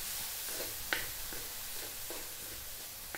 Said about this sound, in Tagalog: chopped onion. Lulutuin ko lang po siya ng mga 2 minutes.